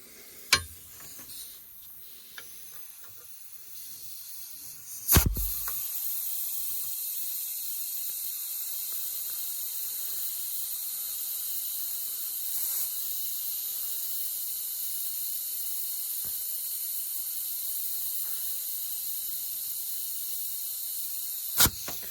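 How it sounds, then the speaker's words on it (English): Steady air hiss escapes a leaking pressurized line filled to about 15 PSI in a log garage, a continuous bright rush running for many seconds, framed by a few sharp clicks and knocks at the start and end. "So, hear that? That's not good because that means it's leaking."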